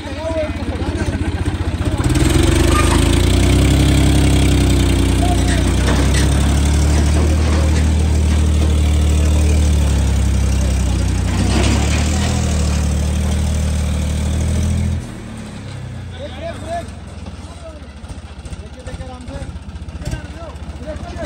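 A heavy tractor engine turns over and settles into a loud, steady, rumbling idle, then drops to a quieter chug near the end.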